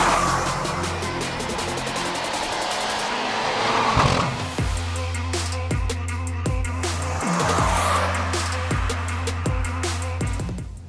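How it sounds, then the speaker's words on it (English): A 2024 Mercedes-AMG C43 4MATIC sports sedan with a smaller engine accelerating hard, engine note rising through the gears with distinct sharp gearshift breaks, loud and close with tire and wind roar beneath. "Say hello to the all-new Mercedes-AMG"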